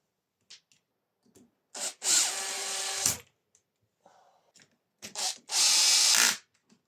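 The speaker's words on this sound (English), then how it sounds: "hang it over the edge of the bench, drill underneath." A power drill tightens nuts and bolts on a Makita DUH754SZ hedge trimmer in two sustained whirring bursts, each about a second long, close by, with short quiet gaps and faint clicks and handling noises between them.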